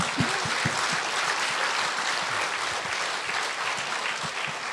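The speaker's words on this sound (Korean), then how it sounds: "박수 한번 보냈어요" Audience at a book concert with a Buddhist monk clapping warmly, a steady crowd of hand claps filling the whole stretch at moderate volume, with no talk over it.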